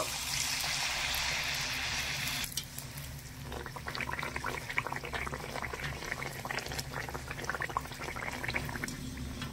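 Batter-coated pitha drops into hot oil with a loud hiss, and a busy crackling bubbling follows, close and steady, with no talking.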